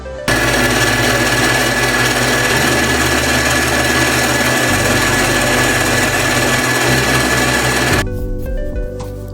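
An electric stand mixer beats cookie dough for frosted Valentine's heart cookies with a loud, steady whirring hum and faint pitch shifts, then it cuts off near the end, leaving softer noise.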